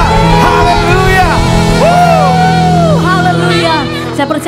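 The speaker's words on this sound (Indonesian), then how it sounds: "Berikan tepuk tangan yang dahsyat buat Tuhan kita." A church congregation at a large convention worship service erupts in loud, sustained cheering, with whoops and shouts rising and falling over a steady musical drone.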